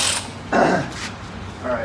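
Close mechanical creaking and ratcheting as a wrench loosens the hood bolts on a 1957 Chevy wagon, a few short turns with brief pauses between them.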